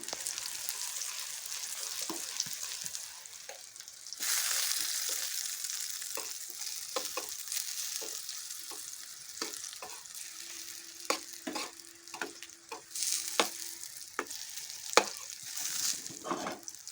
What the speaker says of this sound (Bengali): বেগুনটা আমার ভাজা হয়ে এসেছে